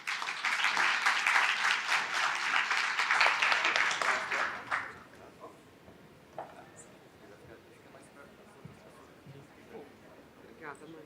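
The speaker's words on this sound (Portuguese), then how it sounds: "Uma salva de palmas." Audience applause at a Brazilian hospital-sector regulatory conference, a dense burst of clapping for about five seconds that stops abruptly and leaves quiet room noise with a few scattered claps.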